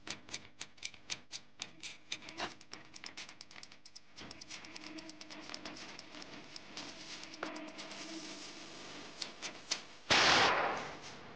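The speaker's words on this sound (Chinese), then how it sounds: "9毫米子弹才被成功发射出去" A 9mm cartridge heated in a fire without a gun barrel, with a long run of sharp close ticks and pops that gradually thicken before a loud burst of blast noise near the end.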